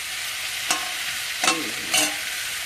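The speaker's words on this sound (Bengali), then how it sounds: "এটা সে মাছ ভাজা হচ্ছে।" Fish frying in a pan gives a soft, steady sizzling hiss, with three brief louder spatters or stirring sounds spread across the few seconds and no voices.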